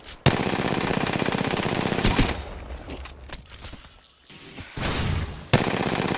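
Automatic weapon fire in the Apex Legends battle game, long sustained bursts of rapid shots broken by a short lull near the middle and then resuming loudly, with no talk heard.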